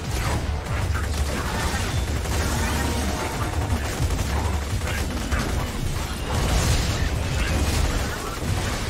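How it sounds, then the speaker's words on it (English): Dense, continuous gunfire and explosions from the Borderlands 2 video game, with rattling bursts and booms overlapping into a steady roar throughout, with no speech. "And so many explosions."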